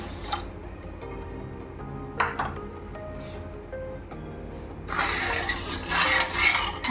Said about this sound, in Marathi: एक कप साखरसाठी हे अर्धा कप पाणी घालते आणि याचा पाक बनवून घेऊ